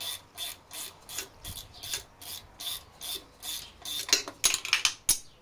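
A wrench ratchets repeatedly while tightening the accessory belt tensioner on a Peugeot J5 engine, a rhythmic series of close, scraping clicks roughly twice a second, growing quicker and sharper at the end.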